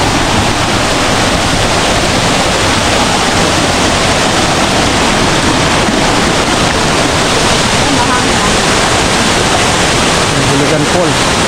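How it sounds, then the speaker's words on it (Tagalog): Hulugan Falls, a waterfall pouring nearby, a loud, constant broadband roar of crashing water that fills the whole stretch without change. "Hulugan Falls."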